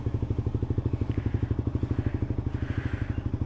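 Motorcycle riding noise as heard from inside a helmet with the visor open: a loud, steady, rapidly pulsing engine thrum with some wind rush on top, continuous throughout.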